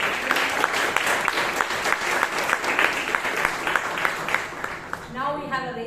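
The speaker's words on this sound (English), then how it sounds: "let's give a big round of applause to Priyanka." A room full of people at a Toastmasters meeting in Bangalore claps steadily and warmly for several seconds before the applause fades away and a voice begins to speak.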